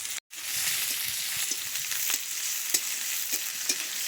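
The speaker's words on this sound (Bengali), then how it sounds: "তেলে দিয়ে দেবো 2টো শুকনো লঙ্কা, আর দিয়ে দেবো একটু গোটা জিরে, দিয়ে দিচ্ছি পেঁয়াজ কুচি, দিয়ে দেবো একটু রসুন থেতো।" Dried chilies, whole cumin, chopped onion and crushed garlic fry in hot oil, a loud continuous close sizzle with light clicks of stirring throughout.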